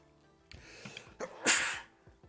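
A single sneeze builds with a short intake and peaks in a sharp burst, fairly close and moderately loud, in an otherwise quiet room.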